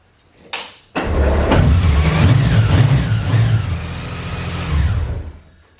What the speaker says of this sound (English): I absolutely love this 6-cylinder motor on here.